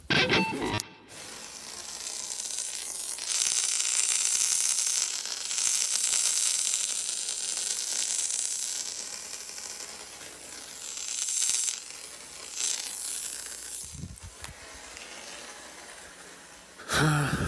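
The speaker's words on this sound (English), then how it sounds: "That's the sound of radio static." Steady hissing static fills the clip, rising and dipping in loudness with crackly bursts, no voices.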